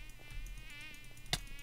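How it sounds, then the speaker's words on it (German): Mosquitoes in a Minecraft game whine with a thin, steady high-pitched buzz that wavers slightly, faint and continuous, with one short sharp click near the end. "Och komm ey, Mücken."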